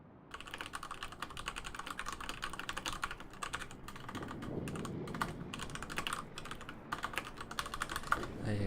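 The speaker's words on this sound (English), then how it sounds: "You have to hit the enter key first, brain. You can't just start typing." Rapid clattering keystrokes on a computer keyboard during a live tabletop game session, fairly quiet and continuous, with faint talk underneath.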